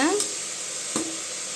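Vegetables sauté in a pan for vegetable rice, with a steady close sizzle and hiss running throughout, a brief voice at the start and a soft stirring scrape near the middle.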